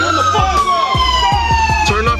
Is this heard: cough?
no